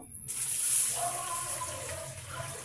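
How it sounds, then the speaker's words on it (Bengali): Lentils (dal) being washed in water, a continuous close splashing and trickling of water in a vessel with faint rubbing movement, steady throughout after a brief quiet start. "ভালোভাবে কচলিয়ে ধুয়ে নেবো কারণ এটা ডাল সুন্দর মতো ধুয়ে নিয়ে বসিয়ে দেবো"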